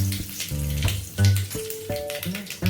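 Mustard seeds, dal and curry leaves frying in hot oil, making a crackling sizzle that sits under prominent tonal background music.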